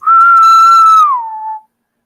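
A single loud, steady whistle holds a high pitch, then slides down and cuts off, a voice imitating the call of the largest Brood X periodical cicada species.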